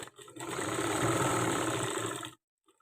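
A sewing machine runs one continuous, close burst of stitching on blouse thread piping, whirring evenly for about two seconds before stopping abruptly into silence.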